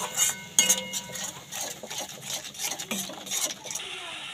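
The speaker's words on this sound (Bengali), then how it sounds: "দইটা দিয়ে আমি ভালো করে কষে নিচ্ছি।" A spoon scrapes and clinks against a pan as curry is stirred and cooked down with yogurt, giving irregular metallic taps and scrapes close by, with no talking.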